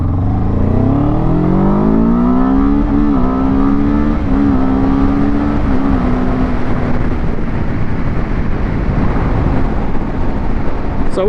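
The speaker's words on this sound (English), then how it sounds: "We are going to launch the bike." A Kawasaki Z7 / Ninja 7 Hybrid motorcycle launches in hybrid electric mode, its engine note rising steadily in pitch as it accelerates hard, loud and close over constant wind rush.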